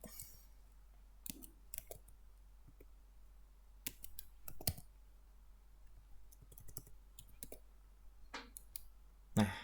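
Sparse, faint clicks and key taps come from a computer keyboard being typed on, irregular and close, over a quiet low hum.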